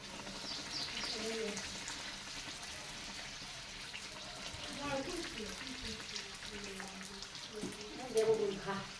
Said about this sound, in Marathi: आता मी सगळ्या सजुऱ्या तळून घेते